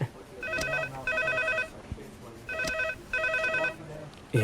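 A telephone rings in two loud, close bursts of repeated bell trills separated by a short pause, with low background sound beneath the rings.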